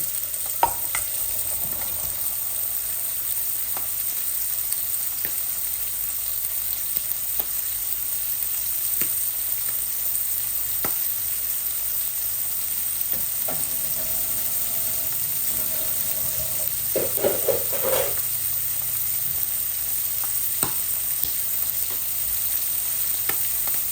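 Vegetables sizzle and are stirred in a pan alongside frying hilsa fish: a steady hiss runs throughout, with scattered utensil clicks and scrapes at close range and no voices.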